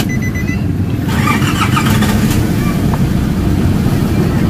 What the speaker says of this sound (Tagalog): so start na yung engine